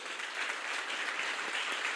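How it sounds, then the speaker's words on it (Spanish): Steady, dense applause from a church congregation fills the room, continuous and fairly even throughout with no pauses. "una vez más a los que están parados les damos un aplauso"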